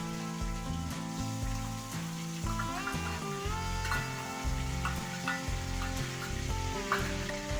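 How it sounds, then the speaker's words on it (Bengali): Onion paste fries in a pan for a Bengali yogurt chicken curry, a steady sizzle with occasional stirring taps, heard under prominent background music. "যতক্ষণ না পেঁয়াজের জল শুকাচ্ছে ততক্ষণ আমাদের পেঁয়াজটা ভেজে নিতে হবে।"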